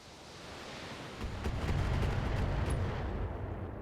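Long-range missiles from turrets strike the player's ship in a video game, a rumbling blast building into a loud, dense roar of impacts with crackling bursts, close and sustained.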